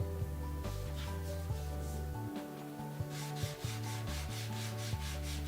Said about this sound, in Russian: взять шлифовальную бумагу марки от 1000 до 2000 и окончательно довести поверхность барельефа до гладкого состояния